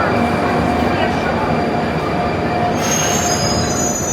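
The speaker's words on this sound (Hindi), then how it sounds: "लेकिन शोर यहाँ बहुत ज़्यादा ट्रेन्स का" Trains passing through a busy Moscow railway station, with loud, continuous rumbling rail noise and high metallic wheel squeal that swells partway through, all close and overwhelming.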